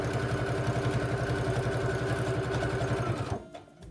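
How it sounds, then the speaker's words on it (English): A sewing machine runs a fast, steady rhythmic stitch along folded bias tape for an oven mitt loop tie, close and fairly quiet, then stops abruptly near the end. "I'm going to sew 1/8 of an inch down either side just to hold it together and tidy it up"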